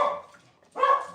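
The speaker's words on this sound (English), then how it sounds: "Sorry, the dog's barking." A dog barks indoors, two close, loud barks separated by a short pause, with no talking.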